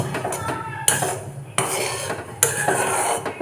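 Grated pieces of Vim bar soap are stirred in a pot for homemade liquid dish wash, giving repeated scraping, clinking strokes of a utensil against metal in three distinct bursts, close and moderately loud with no talking.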